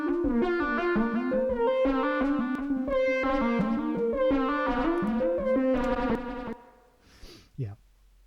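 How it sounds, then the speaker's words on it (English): A synth phrase from a Volca modular runs through a medium reverb plugin from Native Instruments or Arturia, with rhythmic plucked notes in a fairly loud, echoing pattern, then a reverberant tail that fades into a short murmur. "Let's try a medium reverb, interval."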